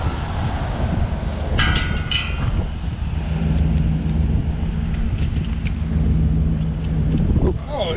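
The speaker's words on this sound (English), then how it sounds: "so it's a little chilly out, pretty windy" Wind buffets a microphone outdoors while fishing for walleye by the water, a loud rumbling gust noise that runs steadily throughout, with a low engine-like hum in the middle and a few brief clicks.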